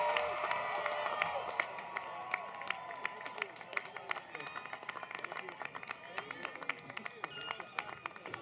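A graduation commencement crowd at Chico State's College of Communication & Education applauds and cheers steadily, a dense wash of clapping with scattered sharp claps and whoops, fairly distant in a large hall, with a voice briefly audible.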